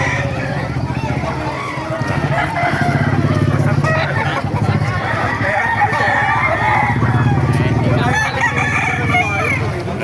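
Roosters crow repeatedly amid a busy, noisy crowd at a market in Calumpit, with people talking and engines rumbling nearby throughout.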